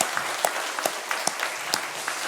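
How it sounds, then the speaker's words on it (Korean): A church congregation claps together in a steady wash of applause with a few sharper individual claps standing out, moderately loud and continuous for a couple of seconds. "우리 박수로 한번 격려박수합니다"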